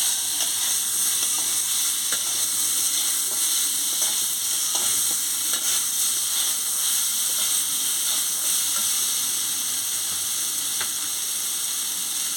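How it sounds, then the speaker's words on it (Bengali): Raw mango pieces fry with salt and turmeric in a pan, a steady broadband sizzle with occasional clicks of stirring, close and continuous throughout with no voices. "পরিমাণ মতন হলুদ গুঁড়ো দিয়ে দিচ্ছি, দিয়ে ভালো করে ভেজে নিচ্ছি"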